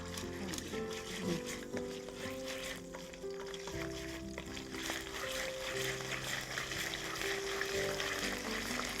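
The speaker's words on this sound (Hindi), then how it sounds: "फिर इसको बहुत अच्छी तरह से भूनना है" Chicken frying in a pan for khatta chicken gives a continuous close sizzle with occasional stirring, while a faint tonal background hum runs underneath.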